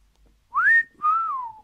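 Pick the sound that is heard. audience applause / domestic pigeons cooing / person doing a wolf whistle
person doing a wolf whistle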